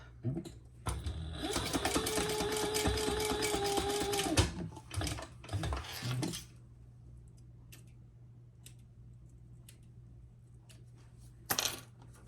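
A sewing machine runs in a fast, steady burst for about four seconds, top stitching across the end of a zipper on a small fabric pouch, then stops, followed by faint clicks and handling noises.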